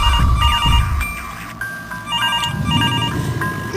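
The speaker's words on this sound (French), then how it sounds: "Je ne te répondrai pas, le téléphone." A telephone rings with a repeating electronic tone pattern that keeps going over soft background room noise.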